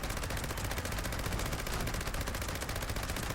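A Gauss minigun firing continuously in Fallout 76, a dense, rapid, unbroken stream of crackling shots with a fast pulsing rhythm, loud and sustained for the whole stretch with no talk over it.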